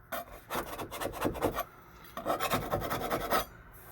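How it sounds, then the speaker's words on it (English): Rough rasping scrapes of old material being taken off a bathroom wall during a DIY repair, two close bursts of rapid rubbing strokes separated by a brief pause, loud and with no talking. "I figured I'd go ahead and scrape them now"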